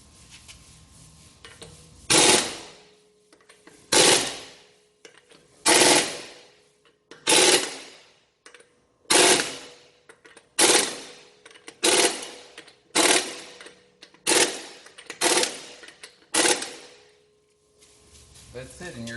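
An impact wrench tightens the wheel lug nuts on a Honda Odyssey in a garage, with about a dozen loud, buzzing bursts of a second or so each, separated by short pauses.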